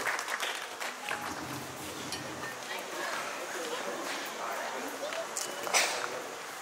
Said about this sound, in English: He deserves a much loud applause.